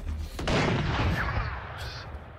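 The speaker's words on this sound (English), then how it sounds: "Placing swarm grenade." Brimstone's swarm grenade goes off in Valorant on the Haven map, a loud, dense burst of crackling, popping blasts that rolls on for about two seconds before easing off.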